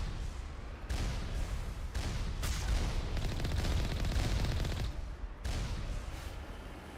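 Dense turret fire from the Mass Effect game hammers away in long sustained bursts, loud and continuous with brief breaks between volleys and no voices.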